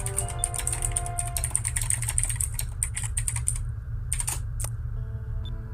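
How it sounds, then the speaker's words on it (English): Computer keyboard keys clatter in quick irregular bursts throughout, with pauses near the end, over a steady low background hum from video game audio. "Apologies if you hear my keyboard"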